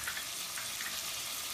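Chopped potato hits a hot pan for a dried Bombay duck and field bean bhaji, giving a steady, fairly quiet frying hiss with no voices.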